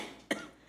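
A single short cough from a woman, sharp and brief, standing alone against a quiet background.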